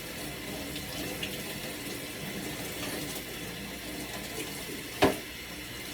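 Tap water runs steadily into a bowl, rinsing cooked pasta with a constant close splashing rush, then ends with a brief clunk near the end.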